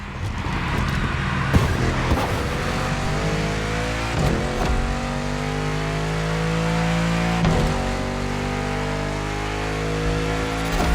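A supercar in The Crew Motorfest accelerates hard through several gear changes, its loud engine note climbing, briefly breaking off at each shift, then climbing again.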